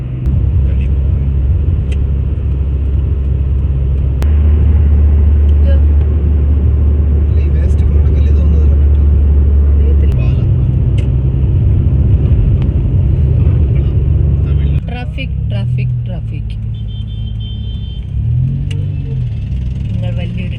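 Steady road rumble and engine drone heard from inside a car moving through busy traffic on an Indian highway during a long family road trip, loud and continuous, with a brief shift in tone near the end.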